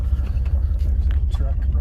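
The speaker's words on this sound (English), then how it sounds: "There's a truck running." A truck engine idling nearby at a building with big bay doors, a steady low rumble that continues throughout, with people talking over it.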